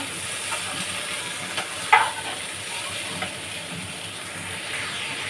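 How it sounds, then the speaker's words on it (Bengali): Ash gourd pieces tossed over moong dal in a hot pan, giving a soft, even sizzle with a few spatula scrapes and one sharper clink, close and moderate with no voices. "চাল কুমড়োটা দিয়ে একটু উল্টে পাল্টে দেবো।"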